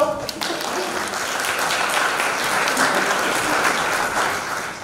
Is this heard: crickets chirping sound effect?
no